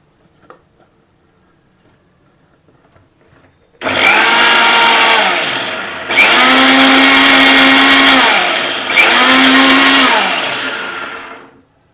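Kitchen mixer grinder grinding tambuli paste with a little added water, a loud steady whir run in three close bursts with brief pulses between, following quiet handling noises.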